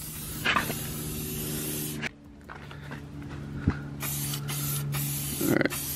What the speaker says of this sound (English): and then you want to rinse that off, make sure there's no left behind